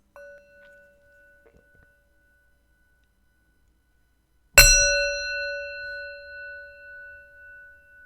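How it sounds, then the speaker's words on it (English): A single bell is struck once, giving a sharp metallic clang that rings on with a long, slowly fading tone in an otherwise quiet room. "So this is going to be the sound of the bell."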